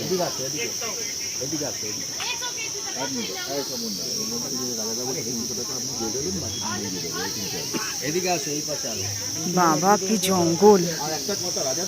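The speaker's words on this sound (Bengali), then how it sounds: "ঝিঝি পোকার ডাক আসছে জঙ্গল থেকে।" Crickets in a forest in the Darjeeling hills make a continuous high, shrill chirring that runs steadily throughout, while people talk over it.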